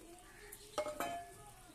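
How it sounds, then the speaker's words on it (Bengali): Fried fish bones added to sizzling greens in a pan, a quiet sizzle under a couple of sharp metallic clinks and stirring scrapes of a utensil. "এবার ভেজে রাখা কাঁটাগুলোকে এর মধ্যে দিয়ে দেবো"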